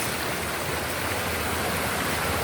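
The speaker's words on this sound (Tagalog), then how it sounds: "Agos sa tubig." Stream water flows over rocks at a rock-formation resort in Infanta, Quezon, a steady, full rushing wash that stays close and constant with no voices over it.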